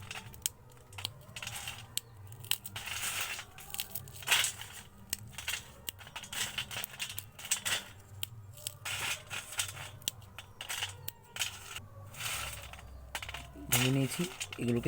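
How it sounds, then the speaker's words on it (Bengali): Kurkure corn snacks broken apart by hand make close, quiet crunching and sharp crackling clicks in irregular bursts, continuing steadily throughout. "এরপর কুরকুরুকে ওইভাবে ভেঙে নেব।"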